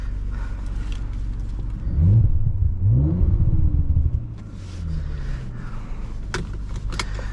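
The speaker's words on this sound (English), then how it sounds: "So tons of burbles, but they're not pops." A 2019 Audi RS5 Sportback burbles through its exhaust while driving with a window down, a deep low rumble that swells and falls in a few sweeps over steady road noise, with no talk.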